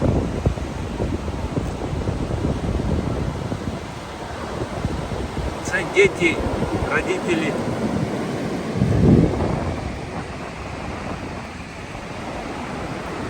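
Pacific Ocean surf washes onto a beach in a broad continuous roar, with wind buffeting the microphone and a louder surge near the end; a few voices speak briefly in the middle.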